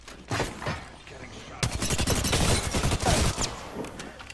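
Video game gunfire in a Brawlhalla 2v1 match, bursts of rapid shots starting after a brief pause and running as a dense, moderately loud volley under faint voice chatter.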